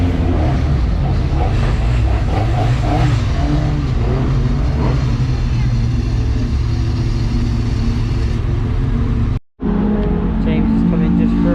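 A pickup truck racing car pulls into the pit at Brands Hatch during a race weekend, its engine droning loudly and steadily up close, with a voice speaking over it and a brief cut near the end.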